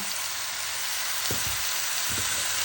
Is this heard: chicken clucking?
no